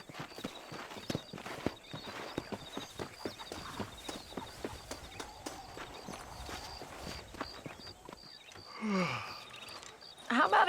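Horse hooves clip-clop in the Red Dead Redemption video game, a steady walking rhythm of close, crisp hoof strikes that goes on for several seconds before a louder burst of sound at the end.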